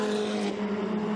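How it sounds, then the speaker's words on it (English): Ferrari Challenge race cars cross the timing line at the Hungaroring, a loud, steady engine drone with no pause across the whole moment. "as the cars cross the timing line"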